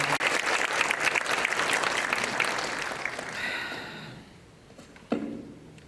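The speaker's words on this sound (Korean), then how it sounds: "우리 박수로 환영하겠습니다" Church congregation claps to welcome a visiting missionary preacher at a Sunday service, steady applause that tapers off after about four seconds, followed by a brief quiet and a short sharp sound.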